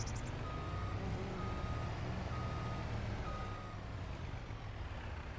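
A water truck reversing in a farming video game, its backup beeper sounding a steady series of evenly spaced tones over a constant low engine rumble.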